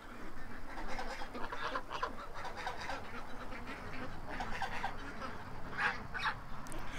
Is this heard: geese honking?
yes